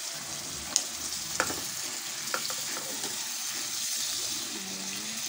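Lechon paksiw sizzles in a pan while a spoon stirs it, a steady frying hiss with a few sharp scrapes and clinks near the start and middle, no talking.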